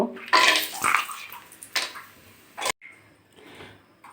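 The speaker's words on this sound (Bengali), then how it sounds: "প্রথমে আমি কড়াটা বসিয়ে দিয়েছি সাদা তেলও দিয়েছি এবার আমি বড়িগুলো ভেজে তুলে নেব" Lentil dumplings (bori) fry in white oil in a wok, giving bursts of loud hissing sizzle with a sharp crackle, then a quieter, fading fizz.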